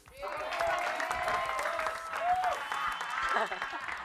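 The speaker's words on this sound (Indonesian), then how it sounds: "Kalau bahasa Indonesia kasih tepuk tangan." Applause from an Indonesian TV entertainment show audience, a steady wash of clapping running throughout, with voices talking and calling out over it.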